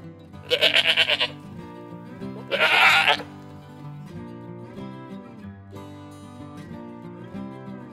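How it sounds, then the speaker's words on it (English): A sheep bleats twice, loud quavering calls, over gentle background music with no voices. "Sheep."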